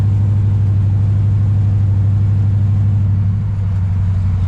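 A 1968 Dodge Charger with a swapped 5.7 Hemi and NAG1 automatic transmission is driving, its engine a loud, steady close-up drone that dips slightly near the end, as if during a gear shift.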